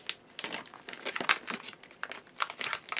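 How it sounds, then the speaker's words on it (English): Foil wrapper of an FP5 gas mask filter being torn open by hand, a close run of crisp crinkling and tearing bursts over about three seconds with no talk. "it's tearing. Okay, so let's get this out of its wrapper."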